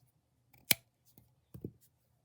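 Scissors snip through crochet yarn close up, a crisp cut followed by a couple of softer snips in a quiet room.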